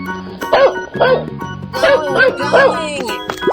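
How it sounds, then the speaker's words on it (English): A dog in a 3D animal slide video game gives a run of loud, evenly spaced barks, about five in quick succession, layered over upbeat game music. "Dog."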